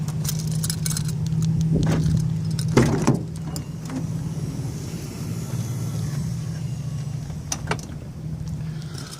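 Door unlocking on a 2019 Dodge Caravan SXT wheelchair mobility van: a few brief clicks and a sharp clunk over a steady low background hum, close by, with no talking.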